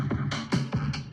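Soloed chopped breakbeat drum layer playing a quick loop of punchy kick and snare hits with crisp hi-hat, several hits in a tight rhythm, loud and close with no voices.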